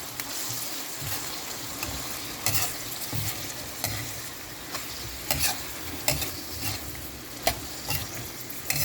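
Mushrooms are stirred and sautéed with mussels in a pan, giving a continuous sizzle broken by repeated scraping strokes of the utensil, close and moderately loud.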